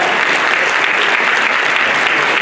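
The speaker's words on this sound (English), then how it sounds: "let's clap, let's clap, let's clap" Audience clapping at a lecture on fearless dialogue, a dense, steady burst of many hands from the crowd, loud and continuous with no voices on top.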